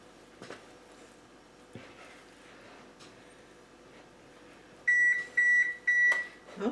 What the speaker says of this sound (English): Oh, my oven is ready.